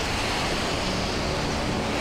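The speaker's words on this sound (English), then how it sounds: "Look at those little waves" Small ocean waves wash in a steady broadband surf roar with wind buffeting the microphone, constant and fairly loud with no voices.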